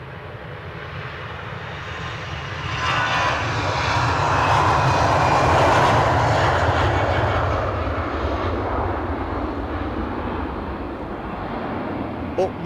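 EasyJet airliner taking off at windy Edinburgh Airport, a broad roaring jet rumble that swells to a peak midway and then slowly fades as the aircraft climbs away, heard from a distance with a voice talking over it.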